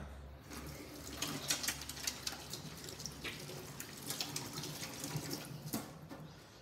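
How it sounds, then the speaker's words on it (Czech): Hands being washed with warm water and soap under a running kitchen tap, a quiet steady stream with irregular splashing bursts as the hands move through it, close and alone. "Umeju si ruce."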